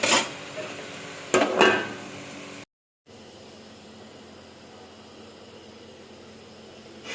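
A lid clatters onto a metal cooking pot holding a vegetarian dish of flat beans and potatoes, with a couple of close clinks and scrapes before a brief silence and a low, steady kitchen hum.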